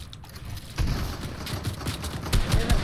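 Gunfire in Fortnite, a rapid fusillade of sharp shots crackling close and loud, with clusters of bursts over a dense, busy game background.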